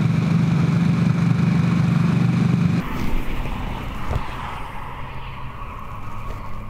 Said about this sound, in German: Der Revolution Max Motor 975, also die leistungsärmste Harley, die es in der Modellreihe gibt.